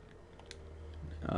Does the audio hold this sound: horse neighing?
no